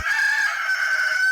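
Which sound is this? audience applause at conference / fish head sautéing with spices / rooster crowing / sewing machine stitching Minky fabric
rooster crowing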